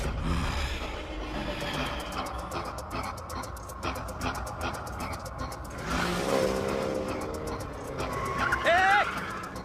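In a movie scene a car pulls away amid busy street noise, engine rising and revving over rumbling traffic, with people talking over it throughout.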